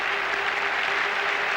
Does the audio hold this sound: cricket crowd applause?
yes